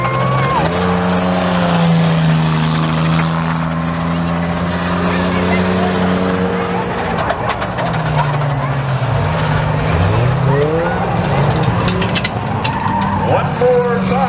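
Race car engines roar and whine at high pitch during a demo race at Speedway Miramichi, rising and falling as cars circle the track, with a commentator talking over them.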